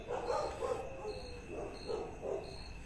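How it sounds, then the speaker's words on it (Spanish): Restless dogs bark faintly and intermittently in the distance outdoors, a few muffled barks spread over a steady background hum. "los perros están muy inquietos"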